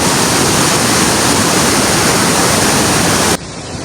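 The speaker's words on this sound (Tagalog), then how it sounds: "So ito yung falls oh. Pulang Bato Falls." Pulangbato Falls in Valencia, Negros, roars as a steady, loud wash of falling water close by, continuous and unbroken until it drops off abruptly at the end.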